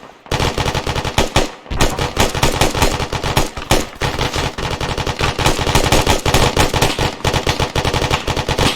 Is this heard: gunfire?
yes